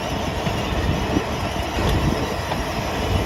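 An IET express train on the Great Western Main Line at Acton rumbles past at steady volume, with a continuous broadband roar and faint rail clatter running throughout, no voices.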